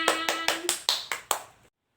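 A class of students claps in unison, about seven sharp, evenly spaced claps over a second and a half, then silence.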